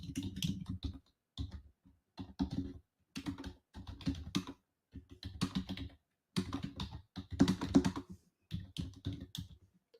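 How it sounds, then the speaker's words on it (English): Typing on a computer keyboard, close and fairly quiet, in irregular bursts of rapid key clicks separated by short pauses. "I think I'm going to type it in our group."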